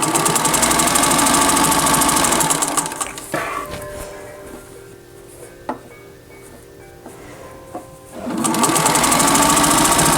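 A sewing machine stitches a rolled hem on flannel for a blouse, running loud and steady, pausing in the middle with small clicks and handling noises, then starting up again.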